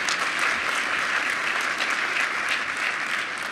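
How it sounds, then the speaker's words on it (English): Audience applause at a 2019 technology conference, a steady, dense clapping that fills the whole stretch at an even level with no voices over it. "That deserves applause."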